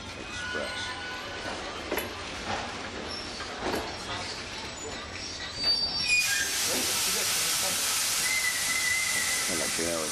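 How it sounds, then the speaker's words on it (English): The Trans-Siberian passenger train rolls into a station with rumbling and a sudden loud hiss of released air or steam, steady and close, with faint background voices. "This could be our train arriving"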